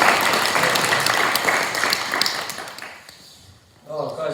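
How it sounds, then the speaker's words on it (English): An audience at a high performance sport talk at a 2023 central camp applauds to welcome a speaker, loud dense clapping that fades out, then a voice begins speaking at the end. "So, a round of applause,"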